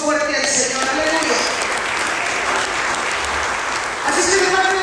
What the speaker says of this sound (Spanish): Denle aplauso fuerte al Señor, aleluya